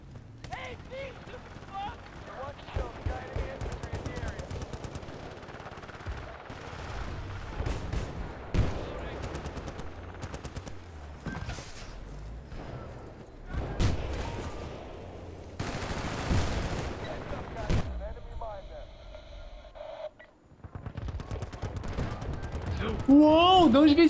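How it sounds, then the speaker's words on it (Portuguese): Rapid bursts of gunfire in Battlefield: Bad Company 2 multiplayer, some distant and some close, mixed with game sound effects and a person talking over the action. "de onde vem esse tiro, velho?"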